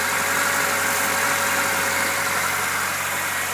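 A Ford Ranger engine idles steadily up close with a constant low hum and broadband hiss, no speech, holding an even level throughout.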